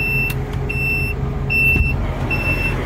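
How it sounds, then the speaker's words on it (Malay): A crane lorry with its PTO engaged gives off repeated high electronic beeps in an even pulse over a steady diesel engine hum, heard close by. "Untuk lori aku ni dia ada bunyi ni lah, tik tik tik."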